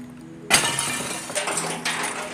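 Glass breaking with a sudden loud crash, then clattering and tinkling shards, with a second smaller crash near the end.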